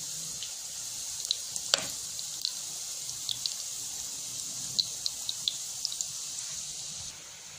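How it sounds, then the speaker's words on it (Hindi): Kebabs fry gently over a low flame, producing a faint continuous hiss scattered with small crackles and pops. "मैंने फ्राई करने के लिए रख दिए थे और ये फ्राई हो रहे हैं"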